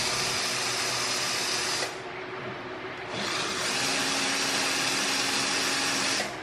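A power tool with an 8mm socket loosens a bolt on a Jeep Gladiator. Its steady, loud whirring drone dips briefly, then resumes at full speed before cutting off.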